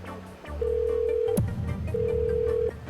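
A telephone ringback tone sounds twice, two long steady electronic rings separated by a pause, close and clear over a low background hum, on a call to a no-show customer's number.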